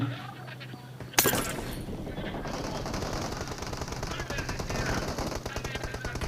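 Rapid automatic gunfire from a mobile shooter game such as PUBG or Free Fire rattles in a dense burst after a sharp crack, playing steadily through the rest, with a faint voice underneath.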